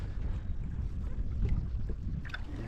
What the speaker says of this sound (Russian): Вот моторчик мой